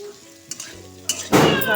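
Potatoes frying in a pan: a few quiet clinks and a low hum, then a sudden loud burst of crackling sizzle as they are stirred.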